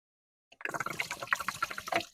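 Coolant pours out of a Polaris Indy snowmobile in a steady splashing, gurgling stream that begins abruptly after a brief silence and runs loud and close for under two seconds.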